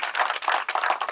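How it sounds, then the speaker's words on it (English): Brief, close clapping from an audience at a school campus opening, a short burst of rapid overlapping hand claps. "Please give him a big round of applause."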